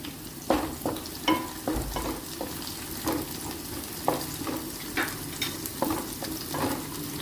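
Whole cloves and a bay leaf sizzling in hot oil, a steady close crackle with a few sharper pops and stirring scrapes, no one talking.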